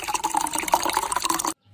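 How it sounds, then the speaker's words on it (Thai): Water poured slowly from a vessel onto soil in a container, a steady close splashing and trickling for about a second and a half before stopping abruptly, with no voices. "เราก็จะนำน้ำเทลงไปในดินเลย ค่อยๆเทนะคะ"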